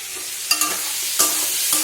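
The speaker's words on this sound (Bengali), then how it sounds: "পটলগুলো ভাজবো আগে।" Pointed gourd sizzles steadily in hot oil in a wok, broken by a few sharp scrapes and knocks of a stirring utensil.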